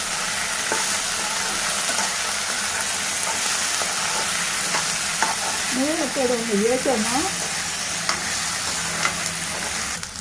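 Okra and onion fry with turmeric and salt sizzles steadily in a pan while being stirred, a continuous crackling hiss with soft scraping strokes and a brief clatter midway, no voices.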